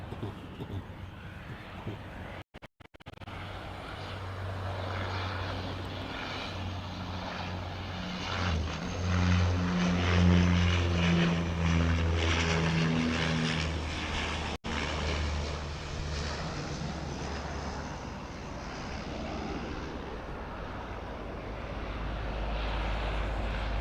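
A Dash 8 turboprop arriving at Auckland Airport from Tauranga passes by, its propeller drone swelling to a loud steady roar mid-clip with a low engine hum, then easing away into a broad rumble of background airport noise.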